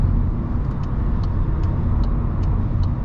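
A 2021 VW Golf 8 with a 1.0 eTSI 110 HP engine is driven, filling the cabin with a steady, close drone of engine and road noise, plus faint regular ticking.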